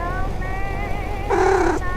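A cat gives a single drawn-out meow near the end, rising clearly above a low steady hum and faint background tones.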